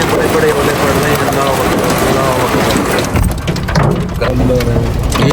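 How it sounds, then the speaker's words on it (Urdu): Large hailstones pelt down during a severe storm, a dense loud clatter of impacts on surfaces that continues throughout, with a brief heavier crack partway through and no voices heard. "اتنے بڑے بڑے اولے پڑ رہے ہیں"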